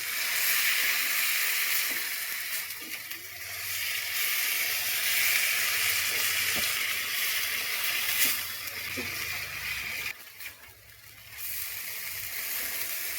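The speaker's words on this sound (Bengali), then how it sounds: "মশলাটা হয়ে গেছে, এবার কিমাটা দিয়ে দেব। ভালো করে এবার কষিয়ে নেব।" Chicken mince frying in a spiced masala, with a steady broadband sizzle and hiss that runs throughout, plus a few faint clinks of a utensil against the pan.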